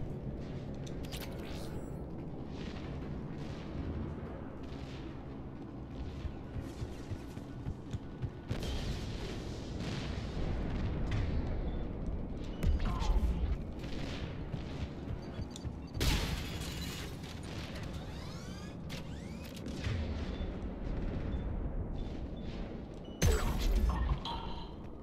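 Automated turrets in the video game Mass Effect 3 unleash bursts of gunfire and booming explosions, with sharp loud cracks and crashes recurring irregularly over a dense, rumbling battle din.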